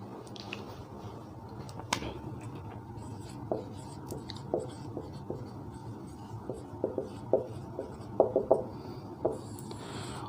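Chalk or marker tapping and scratching on a board during a physics class lesson, with irregular light taps and short strokes close by and soft background noise.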